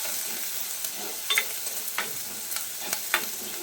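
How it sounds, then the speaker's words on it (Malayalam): Small onions, ginger and garlic sautéing in a pan, with soft scraping stirs and faint sizzling, a few sharper clicks of the spoon against the pan, no voices. "ഇനി അതുകൂടി ചേർത്തിട്ട് നന്നായിട്ടൊന്ന് വഴറ്റി കൊടുക്കാം."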